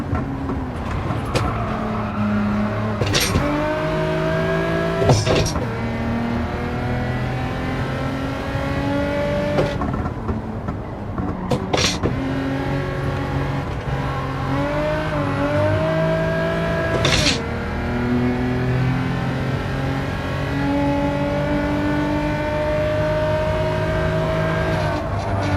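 Sustained roar of racing car engines in Gran Turismo 7, droning steadily through gear changes and rising revs, with periodic sharp clicks and shifts over nearly half a minute and no talk.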